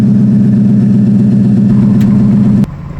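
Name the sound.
Ford Super Duty 6.2 idling with Flowmaster exhaust muffler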